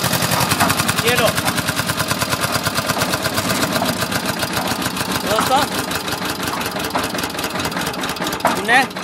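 A faulty diesel engine runs at a repair shop, hammering out a fast, even train of loud knocking pulses close to the microphone, steady for the whole stretch.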